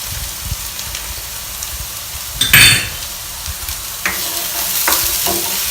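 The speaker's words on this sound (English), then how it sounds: "Now the onions are starting to brown, and I'm going to add a little bit more olive oil" Onions and garlic sizzle steadily in olive oil in a pan, with a loud clatter of a utensil stirring around the middle and a few more scraping knocks later, close up with no talking.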